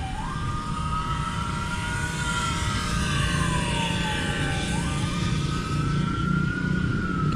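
An ambulance siren wails, rising and falling in long, slow sweeps over steady traffic rumble, loud and close throughout.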